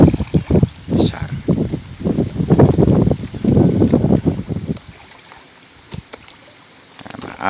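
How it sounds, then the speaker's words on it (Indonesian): Wind buffets the microphone outdoors beside a fish pond where gourami and tilapia are raised, a loud rumbling gusty rush that swells and fades, with faint water sounds and a quieter stretch near the end. "maaf sedikit berisik karena angin nih"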